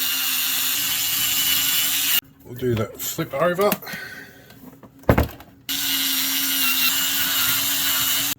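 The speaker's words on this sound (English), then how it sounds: "I'm going to use the little drill for the moment. See if I can drill these rivets out the easy way." A small drill drilling out rivets on a 24V travel oven gives a steady, loud whine at the start and end, broken in the middle by someone speaking briefly and a sharp knock.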